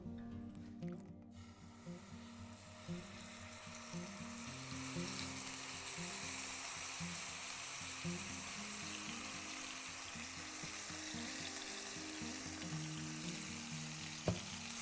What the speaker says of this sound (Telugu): ఫ్రై చేసేసుకుందాం. కొంచెం ఆయిల్ సరిపోద్ది, ఎక్కువ అవసరం లేదు.